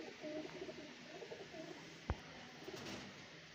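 Chinese pigeon cooing faintly in a loft, a soft low repeated coo over a hissy background, broken by one sharp knock.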